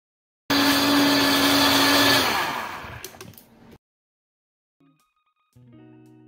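A blender whirs loudly while blending a creamy, smooth, dairy-free vegan soup, a steady motor roar for about three seconds that winds down and cuts off, followed by faint clinks.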